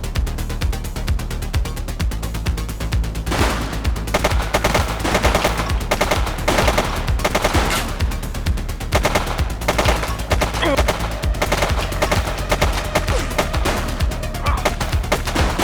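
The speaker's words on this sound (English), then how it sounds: "She's shooting!" Gunfire in the shooting video game The Precinct, a long sustained barrage of rapid automatic shots and bursts, loud and continuous, with brief shouted voices mixed in.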